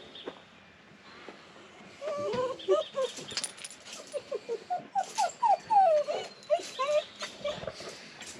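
Dogs at a campsite by a river whimper and yip excitedly in a rapid string of high, close cries, with birds chirping faintly in the background.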